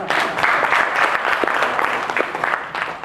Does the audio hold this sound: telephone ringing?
no